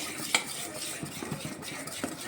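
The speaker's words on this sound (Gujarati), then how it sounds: "હવે એને બરાબર હલાવી લઈશ." Idli batter mixed with a half spoon of sajina phool (Tata soda) is stirred in a home kitchen, with one sharp scrape of a spoon against the pot followed by soft, steady swishing and light clinks.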